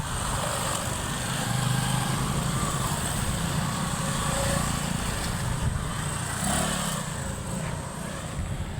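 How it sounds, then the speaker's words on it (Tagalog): A Philippine National Police patrol motorcycle engine runs loud and close, a steady unbroken drone that holds at an even level from start to finish, with no voices. "PNP Motorcycle Patrol"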